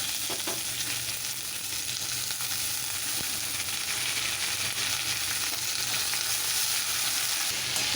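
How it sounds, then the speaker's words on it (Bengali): Potatoes fry with turmeric in a pan, giving off a dense, continuous sizzle and crackle. A few faint utensil taps sound near the start, with no voices. "এবার দেবো হলুদ গুঁড়ো একটু আলুগুলো একটু লাল লাল করে ভাজবো"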